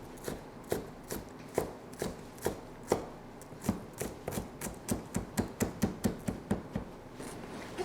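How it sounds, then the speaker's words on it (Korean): Onion being minced with a knife on a cutting board for a soy-vinegar sauce, a steady run of crisp, quiet chopping taps that quicken toward the end, with no talk. "이거를 이제 다져야죠."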